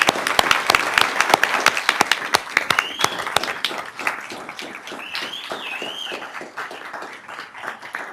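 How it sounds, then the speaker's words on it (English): Audience at a Sacramento City Unified School District board meeting applauds, crisp close claps that start strong and gradually thin out over several seconds, with a few faint whoops. "Let's give them a round of applause."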